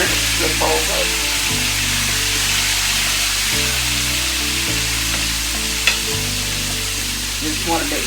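Southern fried chicken sizzles steadily in hot oil as the pieces are turned over, a loud continuous crackle with a few brief clatters and no talk.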